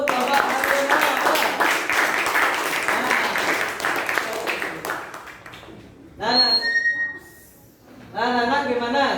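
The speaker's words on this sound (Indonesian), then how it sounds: "Beri tepuk tangan untuk Bapak harimau." Classroom applause for a student group presenting in an Indonesian teaching-practice lesson, a dense burst of many hands clapping over the first five seconds, then fading out before a teacher's voice speaks.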